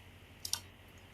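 Two quick, light clicks of a computer mouse close together near the middle, each sharp and brief over a faint steady hum, with no one talking.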